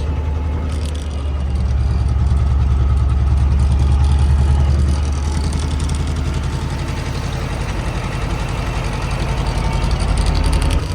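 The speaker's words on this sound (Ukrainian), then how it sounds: "з кабіни трактора Т-25." A T-25 tractor engine rumbles steadily throughout, idling and running close by with a deep, continuous drone and no talking.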